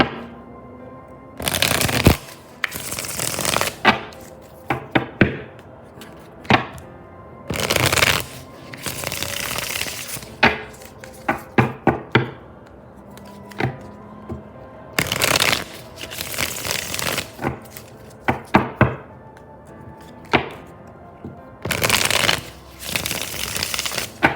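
Oracle cards being shuffled in repeated bursts of riffling and flicking, close and fairly loud, with short pauses between rounds and no talking.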